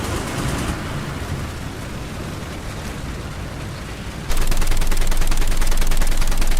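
A tank's coaxial machine gun fires in War Thunder on a French vehicle, a dense, continuous stream of rapid shots that grows louder and harsher partway through, with no talking.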